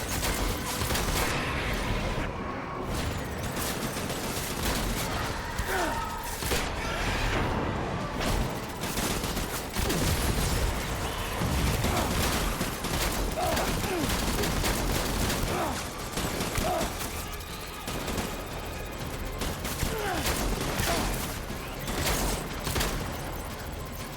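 Shotgun fire in Death Stranding, a steady barrage of loud close gunshots and blasts over a dense rumbling battle din with mechanical clatter, continuing without pause for the whole stretch.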